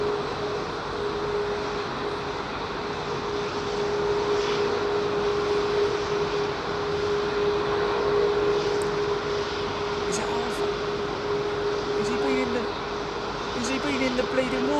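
Airliner jet engines roar steadily at London Heathrow Airport, a continuous loud broadband rumble with a sustained whine, while people talk over it throughout.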